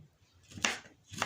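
A knife chopping potato into thick pieces on a board, two sharp cuts about half a second apart, close and fairly quiet, with faint background noise between strikes.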